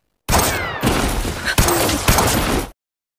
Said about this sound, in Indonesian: Setelah bersiap dengan sebuah pistol, Tinker langsung mengarahkannya ke Deadshot